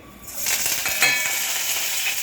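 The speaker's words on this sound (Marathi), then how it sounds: "चांगलं बघा तडतडायला लागलं" Spices tempering in hot oil for a Maharashtrian varan dal, a bright crackling sizzle that bursts in after a quiet start and holds steady and close, with sharp pops scattered through it.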